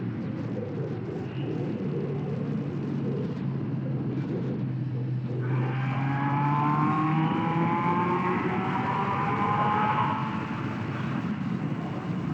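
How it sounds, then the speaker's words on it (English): A Kawasaki GPZ600R sports motorcycle accelerating hard in fourth gear, its engine note climbing steadily for several seconds in a loud, close pull before easing off, with a rumble and wind noise beneath. "So now I'll just try to slow down and make a pull here in 4th gear."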